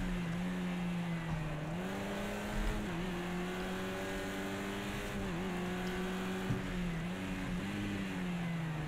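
Caterham race car in Project Cars 2, its engine droning steadily at high revs with brief dips and rises at gear changes, loud and continuous throughout with no talk.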